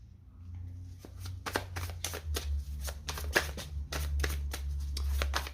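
Tarot cards are handled and shuffled on a table, a rapid series of crisp flicking riffles and slaps close by, continuing in quick irregular bursts over a low steady hum.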